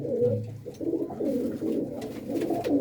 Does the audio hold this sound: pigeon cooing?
yes